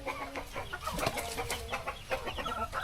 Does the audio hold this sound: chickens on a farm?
yes